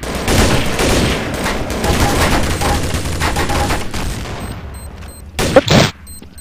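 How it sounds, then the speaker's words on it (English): A grenade goes off in the video game Counter-Strike: Source during a round, a loud blast followed by sustained roaring gunfire and rumble that fades, then a brief sharp double burst near the end. "Nice grenade."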